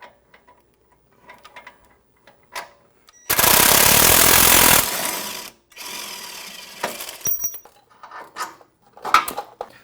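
A ratchet or impact wrench works a suspension bolt loose on a Jeep Wrangler JL Unlimited solid rear axle, a dense mechanical rattle of about a second and a half, loud and close, amid scattered clinks of tools.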